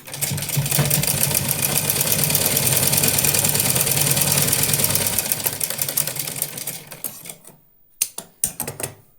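Sewing machine stitching a small doll dress, running in a fast continuous rattling hum for several seconds before slowing and stopping, followed by a few short clicks and taps.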